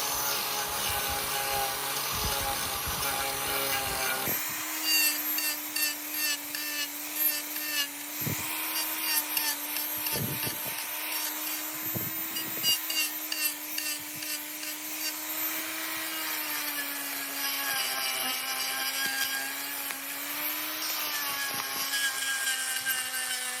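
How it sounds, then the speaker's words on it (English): A turbo plane power carver skims the top edges of a wooden dough bowl, giving a steady, loud whirring grind with brief pauses and shifts in pitch as the cutter passes over the wood. "here you can see me coming back with the turbo plane and just going back over the top edges of the bowl"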